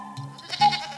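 A little cartoon goat gives a short, nasal bleat, close and clear, in a brief animated-series scene.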